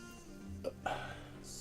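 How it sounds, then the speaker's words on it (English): A man lets out a short, low burp mid-sentence while commentating a mobile hero-battler game, a quick throaty blip followed by a longer rumble, close to the microphone over a soft game soundtrack. "Pardon me, burp, man."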